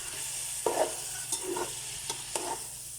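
Spices for fish biryani frying and being stirred in a pan, a steady sizzle with a few scraping stirs, close and moderately quiet, no talking.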